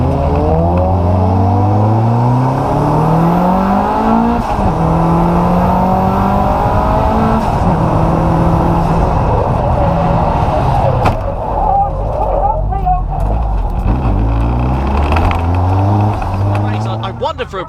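Rallycross cars race around a hairpin bend, engines revving hard and rising and falling through gear changes, loud and continuous, with a commentator talking over the roar.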